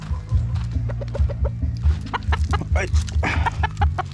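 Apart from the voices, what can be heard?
chickens clucking while being fed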